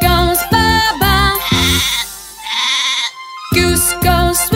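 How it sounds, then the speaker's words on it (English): Bleating from sheep in a children's farmyard sing-along, a few wavering baa calls set between bursts of bouncy sung music and instrument notes. "sheep goes baa baa,"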